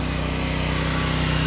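A new portable generator's small engine runs steadily nearby, a loud continuous buzzing drone with a fast regular pulse.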